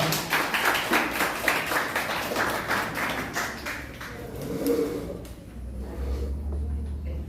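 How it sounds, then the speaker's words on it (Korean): Seminar audience of parents clapping to welcome a lecturer, a moderate burst of many hands that fades out after a few seconds, followed by quiet room noise and low rumble. "큰 박수 부탁드립니다."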